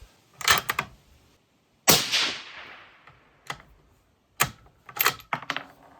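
Rifle shots from a 6mm ARC loaded with 105-grain Aeromatch bullets, running hot, a few sharp loud reports spaced seconds apart, each with a short ringing decay, plus smaller clicks and clatter between.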